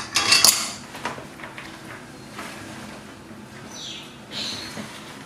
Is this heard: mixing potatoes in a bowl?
yes